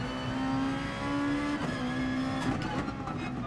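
Honda NSX race car engine in the racing game GT Sport, a steady sustained drone with shifting pitch and a gear-change dip near the middle, continuous and fairly loud with no talking.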